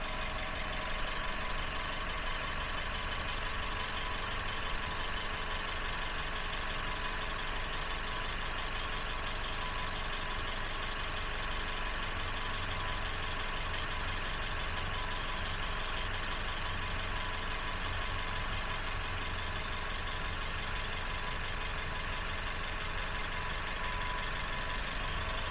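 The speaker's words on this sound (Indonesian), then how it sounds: "silahkan didengerin suara irama mesinnya" Steady engine hum from a 2021 Toyota Agya TRD with a 1.2 automatic, running continuously at an even pitch throughout, with a faint high whine riding on top and no talk.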